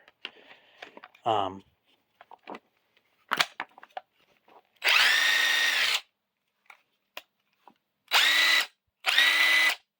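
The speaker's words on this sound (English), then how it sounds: "If you throw the 9 amp hour on it, it really wakes the machine up, especially the newer high torque." DeWalt cordless high-torque impact wrench fitted with a 9Ah FlexVolt battery, firing in three loud sustained bursts of about a second each, with quieter clicks and handling knocks between them.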